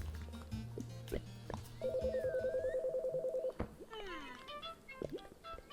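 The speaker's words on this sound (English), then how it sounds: "Let's use the phone." In the game Chicory: A Colorful Tale, a telephone rings with a steady electronic warble that repeats rapidly for about two seconds, mixed with playful in-game chimes and sound effects, with no talking.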